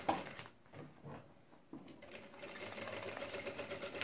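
Sewing machine stitching a nylon organizer, starting with a few short bursts and a pause, then settling into a steady, quiet, close-up run of rapid needle strokes.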